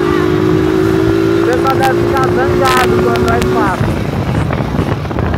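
A motorcycle carries the rider's mother as a pillion passenger: the engine drones steadily under loud wind buffeting, with voices talking in Portuguese over it and the engine note dropping near the end.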